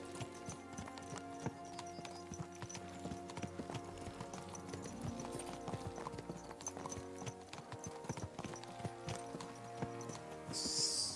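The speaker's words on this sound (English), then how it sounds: "Let's really spur these horses on, eh?" Horses gallop in Kingdom Come Deliverance 2, with steady clip-clop hoofbeats running the whole way, layered over game music and ambience with no talking.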